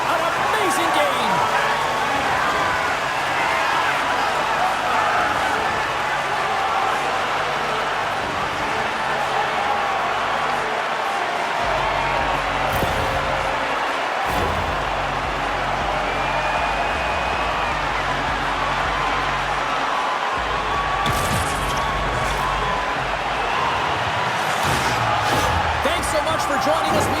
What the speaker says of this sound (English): listen to this crowd salute an amazing game